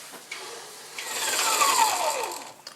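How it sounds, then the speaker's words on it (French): A whisk beats whipped chocolate ganache for a 3D Minion cake, producing a rising, scraping swish against the bowl that swells and fades over a few seconds, alone without talk. "C'est parti, on va fouetter ça."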